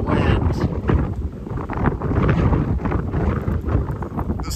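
Strong wind gusts roar steadily across a vineyard of Syrah vines, blustery and close, buffeting the microphone throughout with no pauses.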